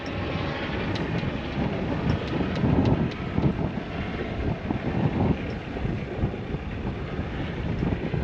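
Strong wind buffets a sailboat under way, a loud, continuous rumbling roar with gusty surges that stays steady throughout, with no talk over it.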